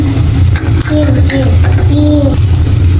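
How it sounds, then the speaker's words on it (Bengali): Panch phoron, cumin and radhuni spices sizzle loudly in hot oil with steady stirring and scraping, a muffled voice faintly in the background. "যে পাঁচ ফোড়ন দিয়ে দিছি আর জিরা রাঁধুনি দিয়ে দিলাম আর যে মাছের তেল দিয়ে দিলাম"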